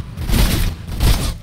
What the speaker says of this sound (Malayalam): ഒരാളെ ഫ്രണ്ടിൽ നിന്ന് വെടി വെച്ചോണ്ടിരിക്കുമ്പോഴാണ്